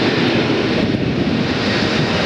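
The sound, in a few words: Boeing 757 jet aircraft departing Atlanta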